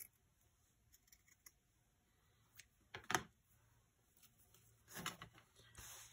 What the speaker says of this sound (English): go ahead and trim that off.